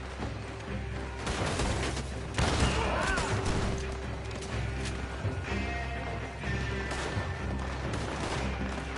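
Gunfire in Red Dead Redemption 2 during a shootout, with dense bursts of shots and crashes that run on under background game sounds and music for the whole stretch.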